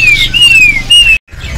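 A caged male songbird at a bird market sings a bright, thin whistling phrase up close and loud, followed by a brief silence and then soft chirping under low market background noise.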